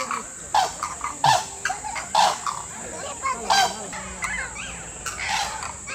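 Large birds at Sakkarbaug Zoo in Junagadh give repeated loud honking calls in short bursts, with quieter chirping and outdoor background noise between them.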